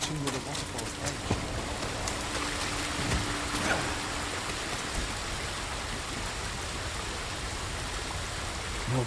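A waterfall in the video game Ghost of Tsushima rushes in a steady, even hiss of falling water that runs unbroken throughout at moderate level, with faint voices underneath.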